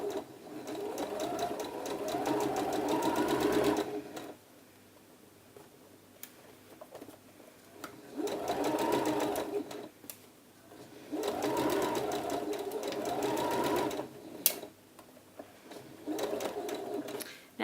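A domestic sewing machine runs in several bursts of steady, rapid stitching along a blouse seam, pausing between runs, close and clear with no talking.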